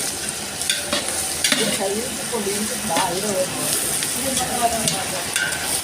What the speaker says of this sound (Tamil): அடி பிடிக்காமல் வதக்கணும்